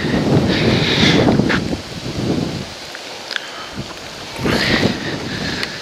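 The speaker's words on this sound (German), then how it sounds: "Oh, hier pfeift ganz schön der Wind." Autumn wind gusts through the vaulted sandstone rock cave of the Kuhstall in Saxon Switzerland, rushing loudly in two strong bursts with a quieter lull between, close to the microphone.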